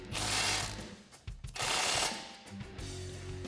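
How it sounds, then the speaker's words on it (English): A 13mm wrench and socket ratcheting to tighten a bolt while installing a lift kit on a Jeep Wrangler JK, with close, dense clicking bursts separated by short pauses. "Then we can use a 13mm wrench and socket and tighten that up."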